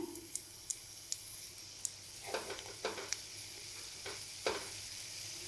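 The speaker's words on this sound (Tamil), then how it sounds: "எண்ணெய் காந்தினு காரத்துக்கு தேவையான வரமிளகாய் சேர்த்துக்குங்க" Dried red chillies fry in a pan of hot oil for a Tamil horse gram chutney, giving a soft, continuous sizzle with a few small crackles and pops, faint and close, with no voices.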